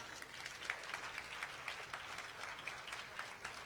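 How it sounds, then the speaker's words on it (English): Scattered applause from a modest crowd claps steadily at moderate volume, without voices standing out. "Let's give him a round of applause."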